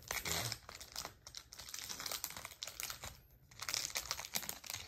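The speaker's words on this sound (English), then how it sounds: "while I rip open the second pack here" Foil wrapper of a trading card dual pack being torn open, with steady crinkling and rustling across the whole stretch and a few louder rips near the start and toward the end, close by, no talk.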